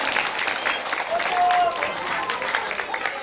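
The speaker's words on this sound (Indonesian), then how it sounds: "Tepuk tangan." Listeners at a Maulid Nabi religious gathering clap after answering a preacher's question during his sermon. Steady, fairly loud crowd clapping runs throughout, with a brief thin whistle-like tone in the middle.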